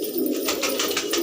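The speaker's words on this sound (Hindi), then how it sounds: "कबूतर बाहर आ जाएंगे" Fancy pigeons give a soft, continuous throaty coo, close and fairly loud, with a pulsing rhythm throughout the brief moment.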